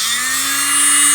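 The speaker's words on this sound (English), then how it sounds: "My mother thankfully had a little Dremel" A small Dremel-type handheld rotary craft tool runs steadily at high speed, a close, continuous whine with an even hum underneath and no pauses.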